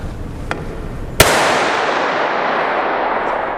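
A small model cannon fires: a single sharp, loud blast rings out, followed by a long, broad roar that slowly fades, preceded by a faint earlier pop.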